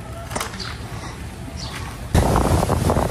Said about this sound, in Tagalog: Grabe po, kalakas po ng hangin.